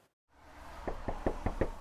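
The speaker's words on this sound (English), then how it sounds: "We are knocking on doors in Halifax" Five distinct knocks on a door in Halifax, evenly spaced and fairly close, rapping after a brief silence over a faint room hum.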